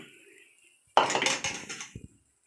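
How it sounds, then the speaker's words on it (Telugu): Dishes and pots clatter at a kitchen sink as they are gathered up for washing after cooking, a sudden burst of knocks and scrapes lasting about a second, then a couple of lighter clinks before it falls quiet. "నెక్స్ట్ గిన్నెలన్నీ తోమాలి ఏముంది గిన్నెలు"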